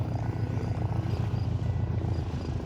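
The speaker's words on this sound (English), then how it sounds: "Water planes just casually landing in." A seaplane landing on water gives a steady, droning propeller engine roar that holds at an even level throughout, with no voices over it.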